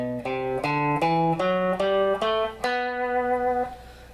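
A B Phrygian mode scale is played note by note, about eight distinct sustained pitched tones in steady succession with the last note ringing longer before fading, no speech.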